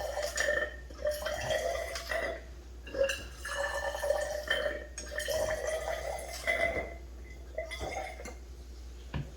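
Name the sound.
water added to sodium carbonate and ascorbic acid, fizzing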